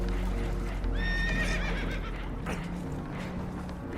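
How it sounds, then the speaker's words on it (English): Spooked horses in Red Dead Redemption 2 let out a sharp, quavering whinny against a dense, rumbling game soundscape with possible water and hoof noise, the neigh rising clearly for about a second before the din continues. "Horses are spooked"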